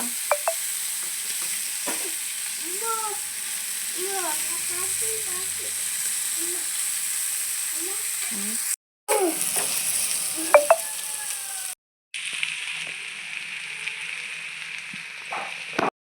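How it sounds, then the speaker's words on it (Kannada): Prawns fry in a pan with a steady sizzle, broken by short scraping and stirring noises near the start and two brief dropouts in the middle. "ಸೊ ಎಟ್ಟಿ ಫ್ರೈ ನೋಡಿ"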